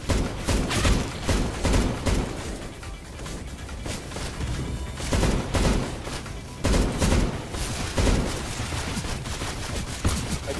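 Rapid bursts of video game gunfire crackle in clusters, loud volleys alternating with short lulls throughout, with no speech over them.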